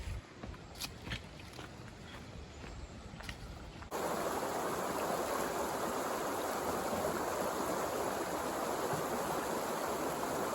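Steady rushing water from a nearby creek in the Appalachians, a constant broadband flow that grows louder after a few seconds, with faint scattered clicks early on.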